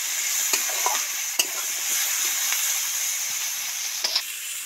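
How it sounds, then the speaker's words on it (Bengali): Large chunks of potato sizzle in a wok with onion and garlic for a Bengali fish curry, a bright continuous hiss punctuated by occasional sharp scrapes and knocks from stirring, close, with no talking. "2 মিনিটের মতো ভালো করে নেড়ে চেড়ে মিশিয়ে দেবো।"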